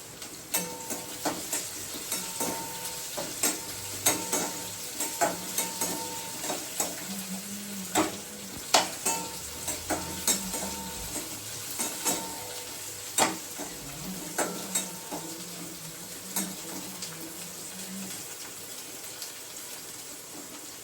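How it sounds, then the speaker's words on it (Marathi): Okra masala, dhaba style, fries and sizzles steadily in a pan, with a constant crackling hiss and rhythmic scraping knocks as it is stirred, no talking. "छान आपल्याला तळल्यासारखं करायचं"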